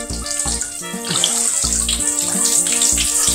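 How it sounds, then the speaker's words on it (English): Fizzing bath toy dissolving in bath water, crackling and popping in a busy bubbly hiss over sloshing water, with a few heavier splashes and thumps. "the water is sort of fizzing into here now, so it's supposed to crackle and pop"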